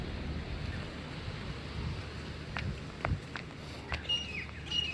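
Sea waves breaking along Porbandar Chowpatty beach in the morning, a steady broad wash of surf with wind noise on the microphone and a few brief higher splashes, continuous and fairly near, with no talking.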